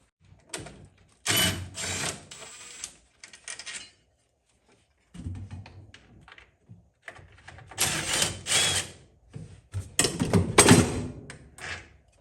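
Ratchet work on 10 mm dashboard screws in a 1978 Trans Am under restoration, with bursts of rapid clicking and metallic rattling separated by short pauses, close and moderately loud.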